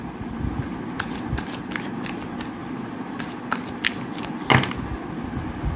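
Tarot cards shuffled by hand give a continuous papery riffle with soft repeated flicks and taps, close and clear, with no talking over them.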